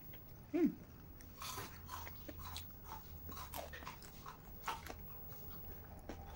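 Crisp bites into crunchy fried Manchurian come as a few faint, close crunches and chewing sounds in a quiet kitchen, with one sharper snap near the start.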